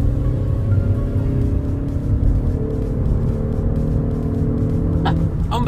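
A Volkswagen Golf with an 8-valve engine pulls hard through the revs in third gear, a steady loud interior drone of engine and road rumble holding throughout with a brief sharper noise near the end.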